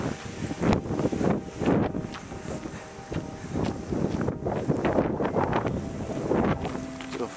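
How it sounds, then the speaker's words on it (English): Cold winter wind on a frigid January day buffets the microphone outdoors in loud, continuous gusts, swelling and fading throughout with steady roaring rumble and no voices. "It's not nearly as bad when the wind's behind you."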